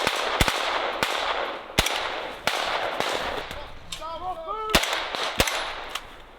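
Rapid gunfire during a military invasion exercise in Europe's far north: sharp single shots crack out roughly every half-second to second, loud and close, with shouted voices briefly audible between them.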